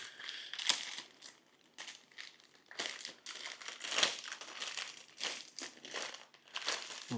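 Cardboard and packing material crinkle and crunch in bursts while tape is cut and a Stellarvue SVX152T telescope box is unpacked, close and fairly quiet, with pauses between handling sounds.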